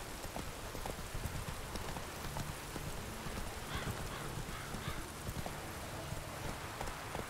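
Roach, Geralt's horse in The Witcher 3 video game, clip-clops steadily at close range over a soft bed of rain, with a brief muffled voice partway through.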